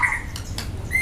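A long-tailed oriental magpie-robin (murai batu) gives a quick loud burst of sharp whistled notes and a harsh squawk, close by and clear, with no talking over it.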